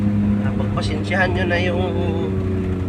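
A motorcycle fitted with a muffler drones steadily on a long uphill road, its low, even engine rumble running beneath someone speaking close by.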